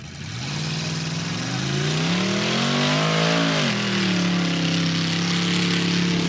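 A racing truck at the Valemount mud drags revs loud and close, its engine note climbing, wavering, then settling into a sustained roar, with no voices over it.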